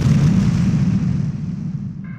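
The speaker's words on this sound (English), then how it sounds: "An explosion!" A single loud explosion in a heist setting: a deep, rumbling boom that rolls out at once and slowly fades over about two seconds.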